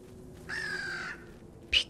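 A crow caws in a horror radio drama: one drawn-out, fairly loud call, then after a short pause a sharper, briefer caw, both over a low background hum.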